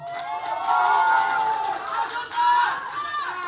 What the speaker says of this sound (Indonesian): beri tepuk tangan kepada calon bupati nomor urut 1